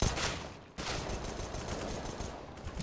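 Gunfire in the video game Counter-Strike: Global Offensive, a dense, continuous stretch of game shots with a brief drop near the start, moderately loud with no talking.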